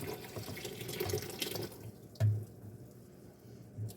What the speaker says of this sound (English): I'm going to pour it over my cranberries just to cover my cranberries